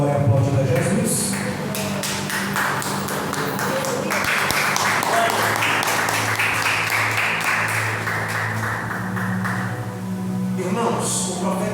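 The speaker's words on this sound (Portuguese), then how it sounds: "Dando glória e aplauso a Jesus" Church congregation applauding during a Friday deliverance worship service, steady broad clapping throughout with voices and organ-like tones underneath.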